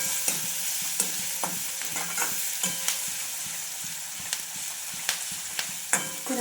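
Curry leaves frying in hot oil in a pan, a steady bright sizzle broken by regular scraping strokes of a spoon stirring, close and continuous with no talking.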